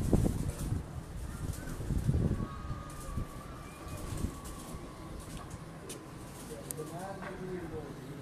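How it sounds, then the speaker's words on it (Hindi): Pigeons in a rooftop loft in Lahore give soft, distant cooing amid light breeze and rustling, with speech and handling noises early on. "आजकल तो सारा मौसम देखा जाए तो हर एक घर छोड़ के दूसरे घर में कबूतर देखने को मिल रहा है।"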